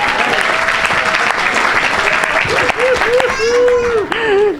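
Congregation at a church mission service applauding steadily and loudly, dense clapping throughout with voices calling out and a sung or shouted line rising over it near the end.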